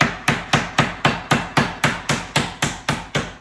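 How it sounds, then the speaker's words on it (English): A meat mallet pounds chicken breast flat under cling wrap, about a dozen firm, evenly spaced thwacks landing roughly four per second, close and clear with no voices. "I'm gonna use my meat mallet here, and we're just going to pound it just to get it a little bit thinner."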